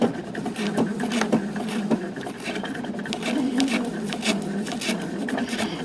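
A sewing machine runs a short back stitch, its needle giving a rapid, rhythmic mechanical chatter with small clicks, close and steady throughout with no talking over it.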